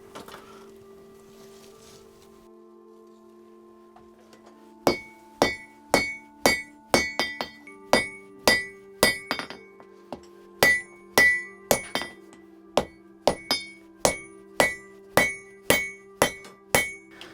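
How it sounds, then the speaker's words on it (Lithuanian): Hammer blows forging a hot steel axe blank on an anvil, a steady series of about sixteen loud, ringing metallic strikes after a few seconds of low hum, each blow sharp and evenly spaced. "Traukiu lauk ir kalu."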